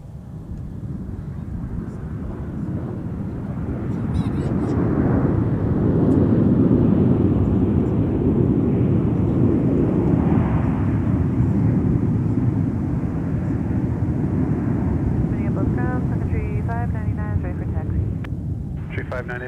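Delta flight 2462 at Minneapolis–St. Paul airport, a jet airliner's engines giving a broad steady roar that swells and lingers, with radio voices talking over it.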